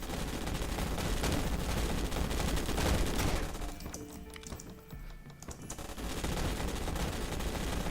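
Rapid gunfire crackles in the video game Yawnoc, dense bursts of shots over a busy mix that briefly thins and then resumes at full intensity.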